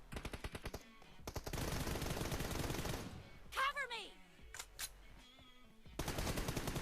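Video game gunfire: rapid automatic bursts open and close the clip, and a voice is heard briefly in between.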